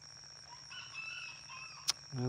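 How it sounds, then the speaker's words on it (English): A faint bantam rooster crows once in the distance, over a quiet background with a soft hum. "Why are you crowing, crazy rooster?"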